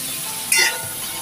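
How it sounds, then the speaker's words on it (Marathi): Drumstick pods sauteing in hot oil in a pan, a continuous close sizzle with one brief louder hiss from a stir midway, no voices. "आपण हे 2 ते 3 मिनिटं छान असं परतून घेऊया शेंगा तेलावरती."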